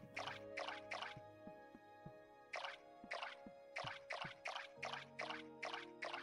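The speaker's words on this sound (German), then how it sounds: "Jetzt muss ich aber noch gießen" Watering plants in the video game Core Keeper: a run of short, bright splashy pours repeat in bursts of three to five, fairly loud, with soft game background tones and no talk.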